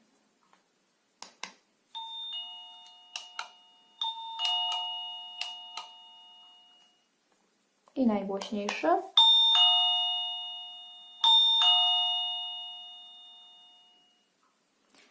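An Orno OPERA DC wireless battery doorbell (OR-DB-YK-118) plays its factory tone 1: clear ringing chime notes repeat in a melodic pattern, pause briefly while someone speaks, then the chime rings again at loud volume.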